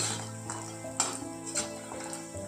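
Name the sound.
lentil bori dumplings deep frying in hot oil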